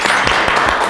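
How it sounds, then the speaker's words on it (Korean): Brief studio applause at the start of an online current-affairs panel broadcast, a dense burst of clapping heard up close for about a second. "제일 먼저 할 일 박수로 시작하겠습니다"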